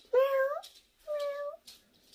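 A person imitates a cat, giving two drawn-out meows separated by a short pause, close and clear with nothing else audible.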